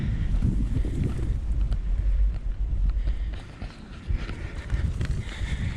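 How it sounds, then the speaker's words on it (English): Strong coastal wind at Crackington Haven buffets the microphone in a continuous low roar, rising and falling in gusts, with no talking. "Wind's going up again."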